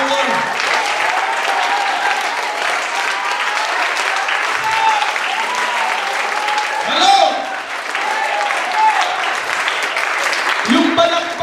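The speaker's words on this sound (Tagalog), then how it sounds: "Kailangan yung palakpak mo may power." Sustained congregational applause in a lively church praise service, many hands clapping loudly and continuously while a preacher's voice calls out over the crowd.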